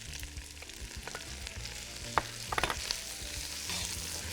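Spinach and artichoke are stirred in a frying pan, giving a soft continuous sizzle with scattered scrapes and a few sharper clicks of a utensil against the pan near the end.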